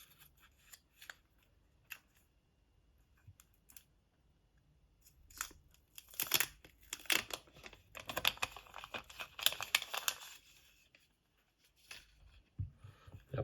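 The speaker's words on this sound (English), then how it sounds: "Let's see the satisfying peel off." Protective film peels off a DJI Mic box in quiet crinkling and tearing bursts, faint at first, then a denser rasping stretch before trailing off into a few soft clicks.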